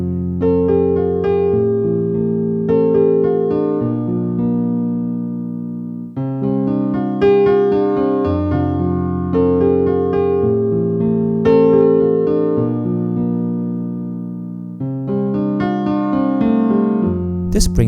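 A full 1980s-style piano turnaround plays through, steady chord changes and a ringing melody unfolding across several phrases, loud and close with no speech.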